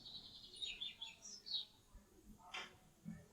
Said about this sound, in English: and now this bird sound